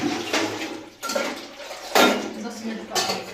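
Dishes, pots and utensils clattering in a home kitchen as it is tidied after a meal, with several separate bursts of clinking and scraping about a second apart, close and moderately loud.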